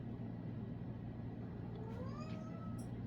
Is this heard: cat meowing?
yes